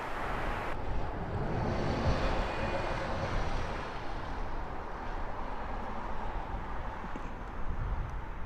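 Boeing 777 jet departing Heathrow Airport, a steady broadband engine roar and rush heard from a distance, sustained throughout with wind-like texture and no talk.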